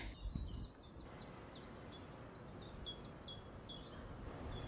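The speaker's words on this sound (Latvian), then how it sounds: "Putnus, kurus dzirdi fonā, tie visi ir dabīgi" Wild birds sing in the English countryside in May, with quick repeated chirps and trills at moderate distance over a low rumble of wind or handling noise.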